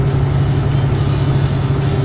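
A truck loaded with 19 tons of export cargo labours uphill, its engine holding a steady, strained mid-pitched drone close to the cab with no break in power.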